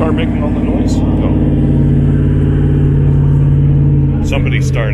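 A Ford Mustang convertible's engine idles nearby with a loud, steady low rumble at an outdoor car cruise, brief clicks and small bursts breaking in near the end.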